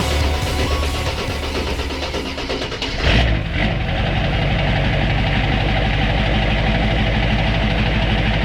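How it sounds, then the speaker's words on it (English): A Ford F150 truck with a 7.3 diesel engine running after a cold start, a loud steady clattering idle that continues throughout, with a brief shift in sound near the middle and no speech. "So the truck did fire up, but it did take longer than I was hoping."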